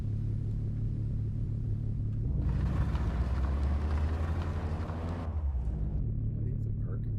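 A car engine in the game Mon Bazou drones along slowly and loudly, a low steady rumble that swells into a heavier, rougher roar for a few seconds before settling back to the idle hum.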